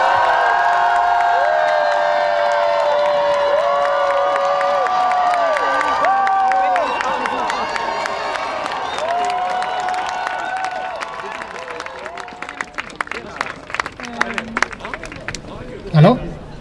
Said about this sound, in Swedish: Nu vill vi höra er jubla